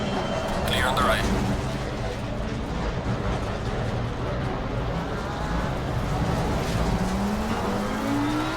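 Race cars at Monza in an online racing game, engine drone running steadily throughout with a car sweeping past on the right, blended under an intermittent radio-style voice giving spotter calls.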